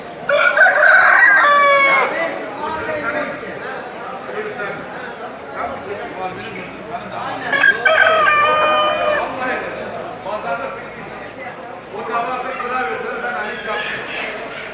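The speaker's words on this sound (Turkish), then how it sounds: "Burada çok güzel bir horoz var." A rooster crows a few times at moderate distance, with farmyard clucking and people talking in the background at a pigeon and chicken market.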